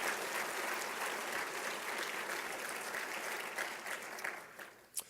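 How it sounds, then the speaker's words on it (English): An audience at a college address gives sustained applause, a broad wash of clapping from many people that holds steady and then thins out toward the end. "so please help me applaud their efforts."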